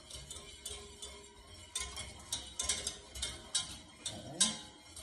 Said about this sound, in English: And now I'm going to whisk the mustard in.